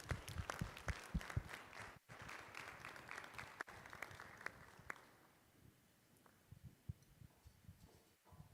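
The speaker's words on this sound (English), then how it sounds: "Another round of applause, please." Applause from the audience at an annual innovation gala and awards banquet: dense, sustained clapping for about five seconds that thins into scattered claps and quieter room noise.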